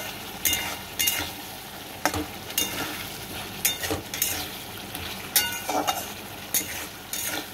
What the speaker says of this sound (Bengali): মশলাটা প্রায় কষানো হয়ে গিয়েছে।